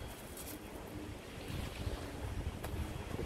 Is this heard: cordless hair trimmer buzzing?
no